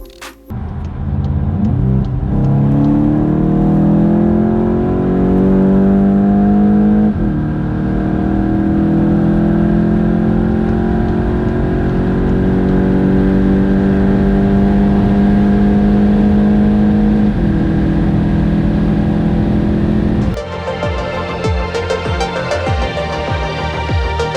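A VW Golf VIII GTI accelerates hard on the Autobahn, its engine note rising steadily through long pulls with a gear change partway and a shift near the end, loud and continuous with road and wind roar, no talking.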